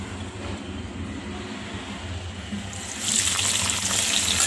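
Vegetables for green undhiyu, including surti papdi and tuvar beans, cook with some water in a pan over a slow flame, giving a steady hiss that swells louder and brighter partway through, with no talk.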